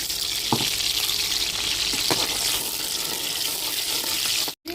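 Urad dal frying in hot oil in a pan for a ladies finger stir-fry, a steady close hiss of sizzling with a few light clinks of a spoon, cutting out abruptly near the end.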